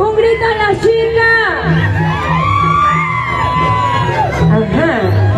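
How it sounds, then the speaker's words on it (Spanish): A crowd at an outdoor patronal festival concert in Valle Lambras whoops, shouts and cheers loudly, with overlapping high voices rising and falling throughout. "¡Un grito a la chica!"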